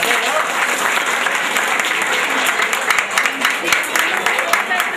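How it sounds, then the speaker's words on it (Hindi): Audience applause at the Adigram Fuloria Greeshmotsav 2016 festival, a dense, steady wash of many hands clapping together for the full stretch, loud and close with a crowd murmur and some talk underneath. "ताली बजाओगे।"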